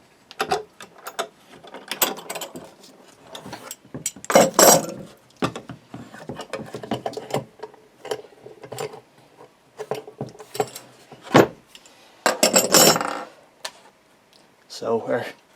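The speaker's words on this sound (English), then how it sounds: "so we're just going to take them all off now" Clamps come off a Les Paul guitar glue-up in a series of close ratcheting clicks and clanks, irregular bursts of metal-on-wood handling with pauses between, while a person talks.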